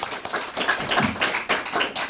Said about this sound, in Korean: 박수가 자동적으로 나오는군요